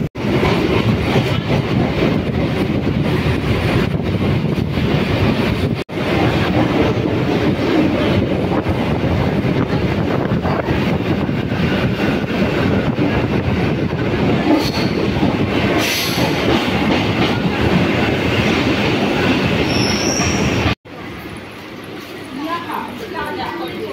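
A Kolkata local train runs between Dum Dum and Burrabazar stations, a loud continuous rumble of wheels and carriages with occasional squeals, easing sharply near the end.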